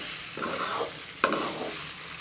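Cumin-spiced green banana curry roasts in coconut oil, a steady sizzle stirred in two sweeps with a sharp utensil clack partway through.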